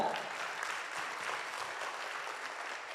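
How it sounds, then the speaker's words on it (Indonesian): Steady applause from a seminar audience at a network marketing talk in Jakarta, a dense even patter of many hands clapping throughout at moderate level, with no talk over it. "Tepuk tangan dong buat kita semua ya"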